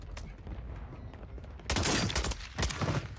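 Call of Duty gunfire on Rebirth Island, faint distant shots at first, then heavy close automatic bursts erupt loud and dense in two volleys, with a voice barely audible underneath.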